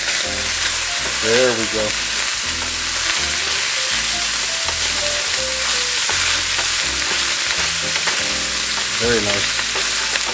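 Ground meat browning in a pan for crock pot queso dip, a steady loud sizzle with occasional stirring and scraping, while a voice talks briefly over the frying.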